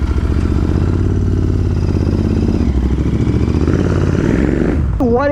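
A Royal Enfield Interceptor 650 fitted with drag bars rides on a road, its parallel-twin engine giving a loud, steady, throbbing drone that stays constant until a sharp rising tone cuts in at the end.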